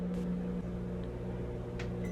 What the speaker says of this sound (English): I'm going to microwave for a minute.